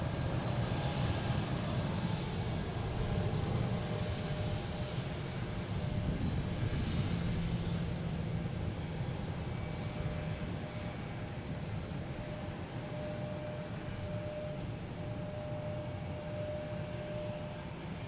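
An Airbus A220 airliner takes off at Boston Logan, a broad, steady jet roar heard from a distance that holds strong for several seconds, then gradually thins and softens as the plane climbs away.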